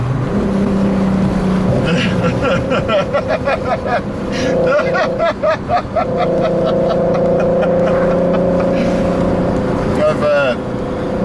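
Turbocharged Audi A3 3.2, tuned to 515 hp, accelerating hard through the gears with the foot flat and shifts at the limiter, engine note rising and dropping repeatedly, loud and close, with a voice talking over part of it.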